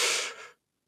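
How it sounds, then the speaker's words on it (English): A single deep inhaled breath during a guided meditation, a close, airy rush that fades out within about half a second into near silence. "Take a deep breath with me in"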